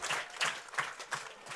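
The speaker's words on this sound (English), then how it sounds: "Crowd beginning to clap." A baseball crowd claps steadily in rhythmic, evenly spaced claps at a Newport Gulls versus North Shore Navigators game with two strikes on the batter, sounding faint and distant.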